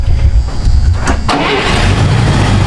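An International Loadstar truck engine with no choke and no air filter fitted cranks and catches, a loud close rumble with a couple of quick bursts before settling into a rough, slightly hesitant run.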